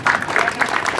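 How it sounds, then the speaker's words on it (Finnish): Spectators at a tractor pulling contest applaud a club, a short burst of many hands clapping at moderate loudness with no voices over it. "aplodit Nuffi-kerholle"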